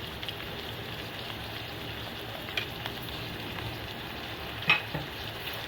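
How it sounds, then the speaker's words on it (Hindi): Steady sizzling of meat frying in hot oil with ginger-garlic paste, a dense crackling hiss throughout with a couple of sharper pops. "मिक्स करेंगे और इसको फ्राई करेंगे जब तक गोश्त का कलर चेंज नहीं हो जाता"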